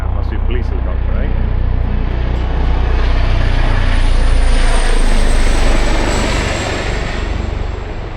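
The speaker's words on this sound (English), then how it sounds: "Police helicopter, eh?" A police helicopter flies overhead on a countryside walk, a loud steady roar of rotor and engine that swells and slowly fades, close and dominant throughout.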